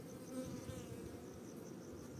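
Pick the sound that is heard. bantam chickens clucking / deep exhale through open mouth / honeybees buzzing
honeybees buzzing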